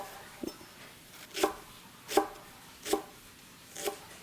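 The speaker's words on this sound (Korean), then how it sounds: "불고기가 숙성되는 동안에 대파를 좀 어스더스 썰어 놓을게요" A kitchen knife chops green onions (daepa) on a board, five crisp, evenly spaced cuts sounding close and clear in a quiet room, no talking.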